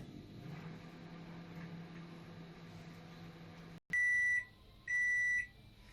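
A microwave oven hums steadily with a low drone for several seconds, then falls silent and gives two loud, long electronic beeps signalling the end of heating a vegetable rava kitchadi masala.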